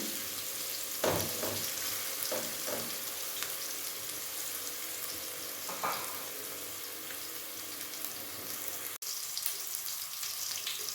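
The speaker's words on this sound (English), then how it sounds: "We will fry until they are golden brown." Onions and other stew ingredients frying for a minced beef, peas and potato stew, a steady close sizzle with occasional stirring scrapes and light clatter, no talking.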